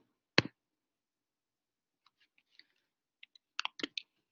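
Someone types on a keyboard during a math lecture: one sharp keystroke, a pause, then sparse light clicks and a quick cluster of taps, quiet with no talking.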